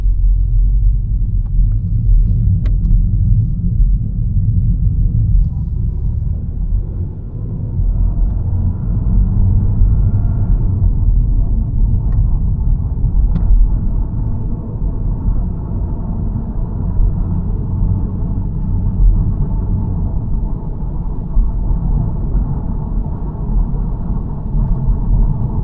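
Audi A3 in sport mode driving with a deep, steady engine and road rumble, the drone rising and easing slightly as gears change smoothly, heard from inside the cabin.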